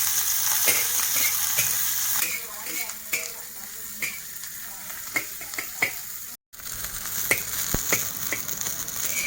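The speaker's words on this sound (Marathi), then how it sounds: "कांदे तळून झालेले आहेत" Onions and green chilli pieces fry with curry leaves in a pan, a steady sizzling hiss with scattered crackles and spatula scrapes and clicks, close up with no talking, broken by a brief dropout near the end.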